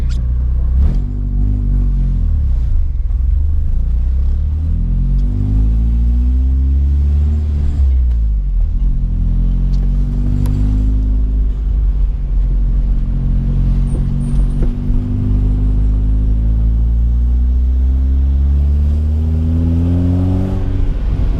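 A loud BMW E36 accelerates hard in first gear, its engine note climbing in repeated rising sweeps over a heavy rumble that stays close and dominant, with no talking.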